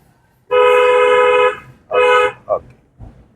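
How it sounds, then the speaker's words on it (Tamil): A car horn sounds loud and near during a driving lesson, one long toot followed by a shorter second blast and a brief chirp, with no voices. "ஹாரன் ஒரு முறை."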